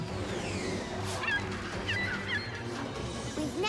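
Cartoon birds honk repeatedly in a busy animated chase scene, goose-like calls scattered over a dense, loud background of music and motion sounds.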